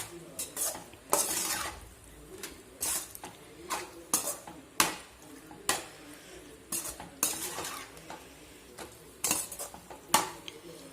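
Pasta being stirred and tossed in a pan, with repeated scraping and clinking of a utensil against the metal in irregular bursts, close and moderately loud, with no talking.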